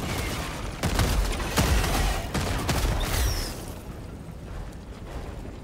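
Explosive booms and rattling gunfire in the video game Helldivers 2 during a grenade throw against bugs, several loud blasts in quick succession that fade into quieter background noise.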